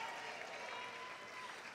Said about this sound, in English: Round of applause for contestant number 6,